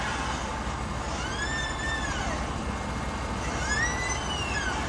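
New Ford 4x4 truck axle shaft turned slowly by hand, giving off two drawn-out squealing whines over a steady background hum, close and moderately loud.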